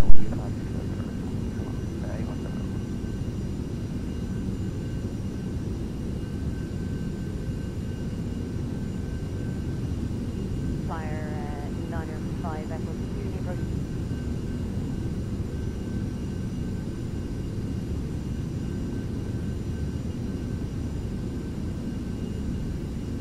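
A Beech Premier jet in a Eurofly flight simulator game hums with a steady, even engine drone throughout, and a voice speaks briefly over it partway through.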